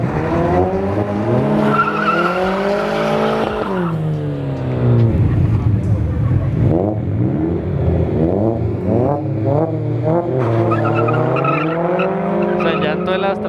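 Drag-racing cars, an Astra 2.0 turbo against a Miata at Autódromo Moisés Solana, scream through hard acceleration with tire spin and squeal, engine pitch sweeping up and down through gear changes, loud and close.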